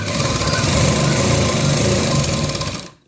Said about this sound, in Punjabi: ਇਨਵਰਟਰ ਤੇ ਮਸ਼ੀਨ ਚੱਲ ਰਹੀ ਆ